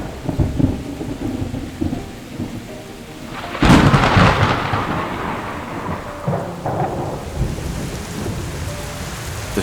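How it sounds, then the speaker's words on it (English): Heavy rain pours steadily on the African savanna during the short rainy season, and a loud, close thunderclap breaks over it midway, rumbling and fading back into the continuous downpour. "The first rains touch the earth like drops of life"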